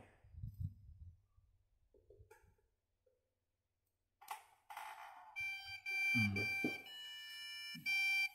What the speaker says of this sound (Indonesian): Jadi kerusakannya adalah saat di start bunyi alarm